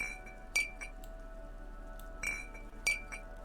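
Glass drug items clinking in the Disco Elysium video game: three bright, ringing chinks, near and fairly quiet, spaced about a second apart, with fainter small taps between them.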